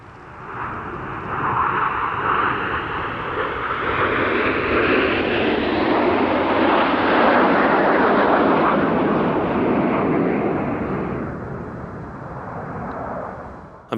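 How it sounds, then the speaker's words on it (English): Frecce Tricolori jets fly an aerobatic airshow display, their engines a broad, loud roar that swells into a sustained rushing peak and slowly eases off as the formation passes. "aerobatic team flying doesn't get more spectacular than that of the Frecce Tricolori soloist, Major Simone Cavelli"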